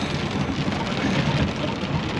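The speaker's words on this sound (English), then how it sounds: "This is the first rain we've had in a long time." Steady rain pours down around a new Ford 9480 tractor in a cattle field, a dense even hiss of drops hitting surfaces, continuous and fairly loud with no voices.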